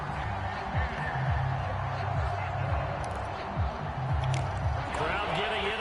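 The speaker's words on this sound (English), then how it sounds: "Crowd getting in it a bit already." Crowd noise at a football stadium during an early-game NFL drive with Burrow at quarterback, a steady broad roar swelling slightly near the end, with play-by-play commentary running over it.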